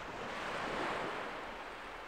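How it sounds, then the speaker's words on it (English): Ocean waves wash onto a beach in a steady, close, broad rush of surf, mixed with some wind buffeting the microphone and no voices. "The waves."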